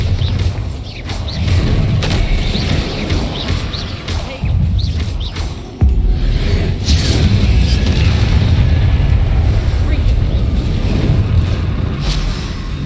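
A Bombarda spell exploding in a Harry Potter video game, loud deep booming blasts and rumbling thuds that surge and sustain, with a sharp cut partway through.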